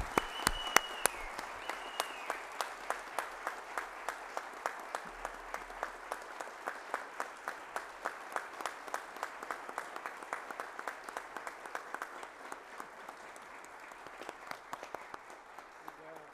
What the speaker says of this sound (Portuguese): Uma salva de palmas bem calorosa para o nosso homenageado